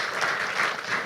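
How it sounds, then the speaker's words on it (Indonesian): Audience members at an Indonesian digital literacy seminar applaud, a short, even wash of clapping heard on its own. "Boleh minta tepuk tangannya Bapak Ibu sekalian?"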